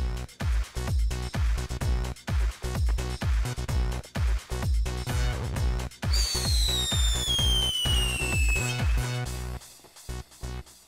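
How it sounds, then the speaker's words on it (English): Rapid repeated booms and pops of fireworks in the video game Gmod Tower, a rhythmic barrage joined midway by a descending whistle, over a busy musical background. "Move for my fireworks."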